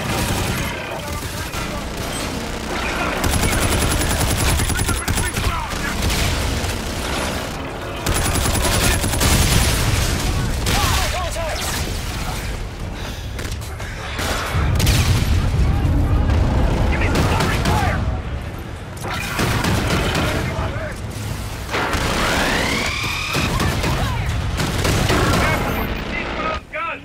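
Gunfire in the Call of Duty Infinite Warfare campaign, dense bursts of automatic weapon fire and booming shots rattling almost continuously, loud and close, with game sounds layered underneath.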